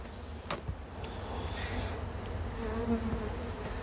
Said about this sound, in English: Jim and JJ, I'm going to give you one more shot of these bearding bees on the front of this hive